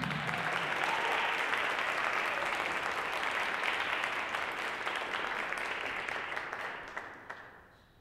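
An audience at a high school band concert applauds to welcome the Green Canyon High School Concert Band. Steady, dense clapping from a full room holds throughout and fades out at the very end.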